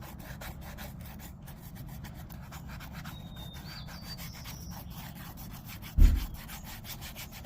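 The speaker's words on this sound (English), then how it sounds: "Now we're just gonna sand these" Steady rhythmic rubbing of sandpaper sanding the edges of handmade high-top sneakers, close and continuous for several seconds, with one brief heavier knock partway through.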